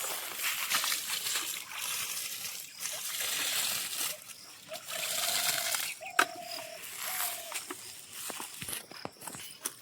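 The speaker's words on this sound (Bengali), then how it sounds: "জলটা আর অকাজ না করে পেঁপে গাছের গোড়ায় দিই।" Water is poured out at the base of papaya trees in a rural garden in the Sundarbans. Intermittent splashing and sloshing on the soil comes in uneven bursts, with a few small knocks and faint background sounds.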